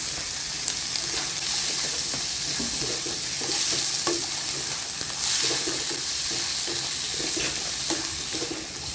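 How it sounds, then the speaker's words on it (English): Mushrooms and carrots sautéing in a hot pan, a steady sizzle broken by repeated scraping and stirring strokes of a utensil, close and fairly loud. "Saute until the carrots half cook"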